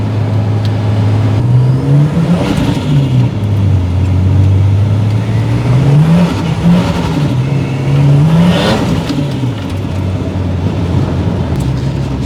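A boosted Ford AU Falcon engine revs repeatedly on a dyno, pitch rising and falling in surges over a steady loud drone, with no talking.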